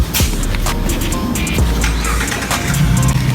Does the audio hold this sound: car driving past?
yes